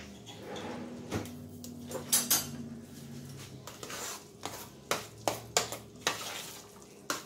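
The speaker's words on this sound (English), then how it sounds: "we're going to give that a good stir" Mashed potatoes stirred in a pot, Idaho southern-style cheesy version, with thick scraping strokes and sharp utensil knocks against the pot side, several louder clacks toward the end, close and alone.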